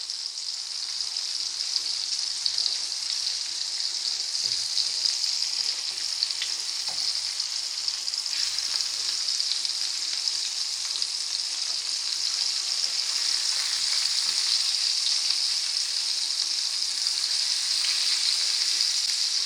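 Tuna steak sizzles steadily in a hot pan, a dense, even frying hiss that holds for the whole stretch with small crackles and no talk.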